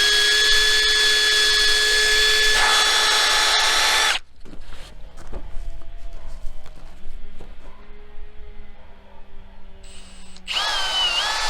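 A power drill bores mounting holes into a homemade wooden headboard cut from ponderosa pine, the motor whining steadily and loudly, then cutting out into bumps and handling noises before the drill starts up again.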